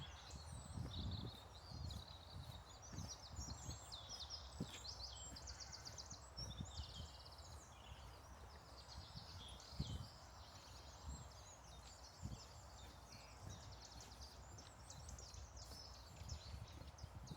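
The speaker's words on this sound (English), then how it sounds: "Birds are singing." Birds sing in a Scots pine wood at Chevins Wood on the Rougham Estate: faint, high chirps and trills scattered throughout, with soft rustles and footsteps closer by.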